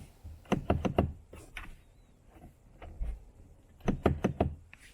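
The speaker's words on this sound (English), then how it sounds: "Can't open the door from inside." Several sharp mechanical clacks in quick bursts, a child-locked Hyundai Elantra rear door handle yanked repeatedly from inside, close by with short pauses between groups.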